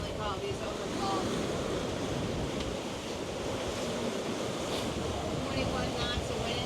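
Strong wind and breaking waves at sea off the Isle of Skye, with 21 knots of wind against the current, roaring loud and continuous, with heavy wind buffeting on the microphone.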